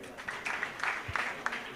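Faint, thin applause from a small group rises and falls for a couple of seconds with a few sharper claps standing out, beneath a soft voice.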